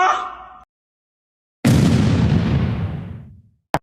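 Someone cannonballs into the water at Mandala Falls: a brief voice at the start, a pause, then a loud close splash that fades over about two seconds, and a sharp knock at the end.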